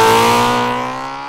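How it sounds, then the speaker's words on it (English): A Yamaha R6 street bike engine screams at high revs, loud and close, its pitch easing slightly downward as the harmonic whine holds for a moment with no talk over it. "It's gonna be bouncing the rev limiter"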